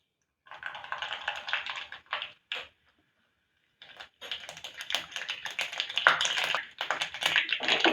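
A teaspoon of mustard seeds spluttering in two tablespoons of hot oil for tempering, a dense crackle of sharp popping that breaks off briefly and then resumes, close and fairly quiet.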